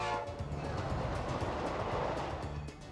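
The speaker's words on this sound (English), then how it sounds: "The locomotive pulling our train this afternoon is old number 90, built back in 1924 by the Baldwin Locomotive Works of Philadelphia, Pennsylvania." Old number 90, a 1924 Baldwin steam locomotive on the Strasburg Railroad, rumbles past pulling its train, a loud continuous roar of wheels and rails with a faint whistle tone at the start.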